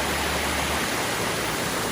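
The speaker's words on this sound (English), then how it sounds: "right there you can see some water spilling over. There's a concrete dam." Creek water spills over an old concrete dam from the early 1900s into the creek about 20 feet below, heard as an even, broadband rushing hiss that stays steady and constant.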